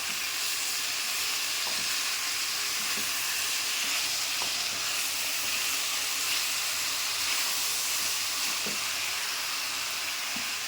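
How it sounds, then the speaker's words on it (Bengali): Elephant apple pieces fry in hot oil for a pickle, giving a steady, even sizzle and hiss that stays the same for the whole stretch, with a few faint clinks underneath; close, moderately quiet, no voices. "চালতেটা ঢেলে দিলাম একটু সময় তেলে মেরে নিতে হবে"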